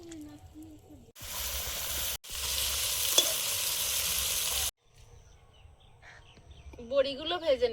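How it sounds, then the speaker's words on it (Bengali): Bori (lentil dumplings) sizzle loudly as they fry in hot oil in a wok, a steady broadband hiss that cuts off sharply, with a voice speaking faintly before and after. "বড়িগুলো ভেজে নেব।"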